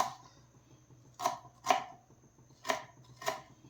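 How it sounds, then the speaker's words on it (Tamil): An onion being chopped finely with a knife on a board, four distinct close chops in two pairs over a quiet background, with no talk. "வெங்காயம் நல்லா பொடி பொடியே கட் பண்ணிக்கணும்"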